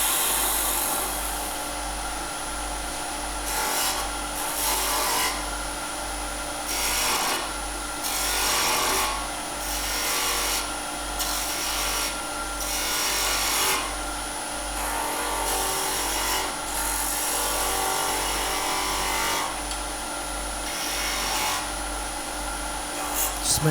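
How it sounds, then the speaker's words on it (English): A wooden box spins on a lathe while a 3/8 spindle gouge cuts detail into it, giving a steady close scraping rasp that pulses with each pass of the tool, alone without talk. "I'm going to swap over back to the 3/8 spindle gouge, and we can just do a little bit more detail in here."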